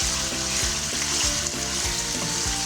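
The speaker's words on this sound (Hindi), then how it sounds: "7 मिनट तक इसकी मैं ज़रा फ्राई कर लेती हूँ" Chicken pieces fry for green karahi in a pan, giving a loud, continuous close sizzle with a regular rhythmic thump of stirring running through it, and no one speaks.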